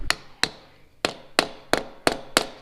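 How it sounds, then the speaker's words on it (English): A small plastic hammer taps a seal into place during a clutch and flywheel replacement on a Mazda RX-7 FD with a 13B rotary engine, giving seven sharp, evenly spaced knocks, close and clear. "And I used a little plastic hammer."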